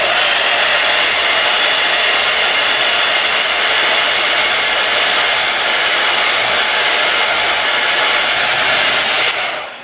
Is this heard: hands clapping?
no